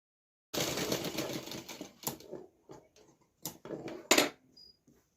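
Sewing machine stitching the hem of a suit, a close whirring run of stitching followed by short intermittent bursts and clicks as the fabric is adjusted.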